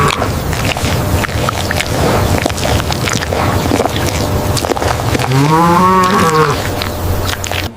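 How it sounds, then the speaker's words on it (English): Cattle on a ranch, with one long, loud moo rising and falling near the end over a steady, windy outdoor background. "this ranch is home to hundreds of cattle, grazing peacefully under the golden hour sun"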